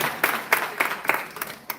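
A small audience at a township candidates' event claps in a short, sparse burst, a few distinct hands slapping in loose rhythm for under two seconds.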